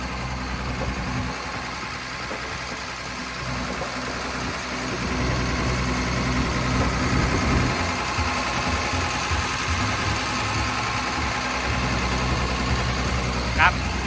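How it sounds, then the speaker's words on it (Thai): A Caterpillar 322B 20-ton excavator's six-cylinder turbo diesel idles steadily with a low, constant rumble and mechanical vibration, growing slightly louder partway through. "เสียงเครื่องการทำงาน ของตัวเครื่องยนต์ของเขาเองเนี่ยก็ทำงานได้แน่นนิ่มดีปกติเลย"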